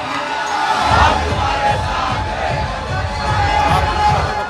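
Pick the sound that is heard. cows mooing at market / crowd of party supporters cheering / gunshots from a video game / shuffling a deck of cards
crowd of party supporters cheering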